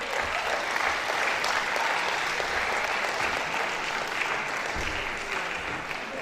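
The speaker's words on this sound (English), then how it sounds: "Please, let's give the lecturer one more round of applause." A lecture audience at a university event claps for the lecturer, a dense, even round of applause running steadily for several seconds before slowly tapering.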